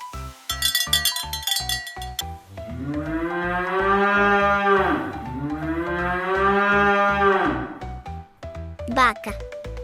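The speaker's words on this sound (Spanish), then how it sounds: "Esta es una vaca." A cow moos in two long, drawn-out calls, loud and close, with someone speaking and a few clinking tones before and after.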